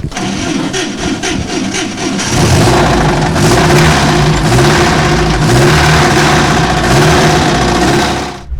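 An old 1950s Mercedes car cranks with a rapid starter whir, then its engine catches and settles into a loud, steady running idle with a slight revving rise, heard close up outdoors on city streets.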